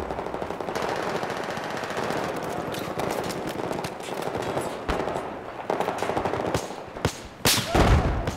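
Rapid machine-gun bursts and scattered rifle shots crackle continuously through Battlefield 5 gameplay, with a loud close burst near the end over a dense battle din.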